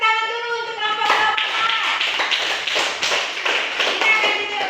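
Classroom audience of children claps for a student group during a teaching session, a brisk burst of many hands that starts after a second under an adult voice speaking and continues steadily to the end.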